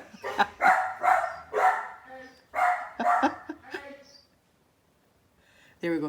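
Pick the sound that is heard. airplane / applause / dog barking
dog barking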